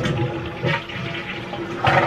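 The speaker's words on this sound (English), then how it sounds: "I changed the flusher and it's flushing!" A household toilet flushes after its flusher has been replaced, with a steady rush of draining water and a sharper surge of flow toward the end, heard close and alone.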